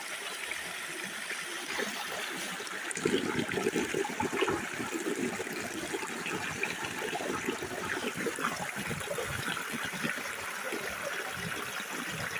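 Steady water running through a bucket-fed gold sluice, a continuous splashing trickle that grows busier and more agitated partway through, with no talking.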